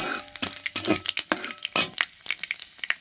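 Panch phoron spices stirred into hot oil in a pan for cooking greens, a close series of quick scraping strokes and light metallic clinks over a soft sizzle, uneven and busy.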